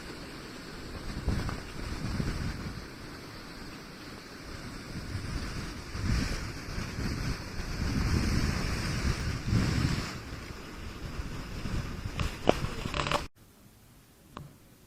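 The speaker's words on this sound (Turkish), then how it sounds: "Dağdan şelale geliyor, üstünüze dökülüyor." Rushing water from a mountain waterfall in the Dolomites roars steadily and close, mixed with gusty wind buffeting the microphone, before cutting to a quieter hiss near the end.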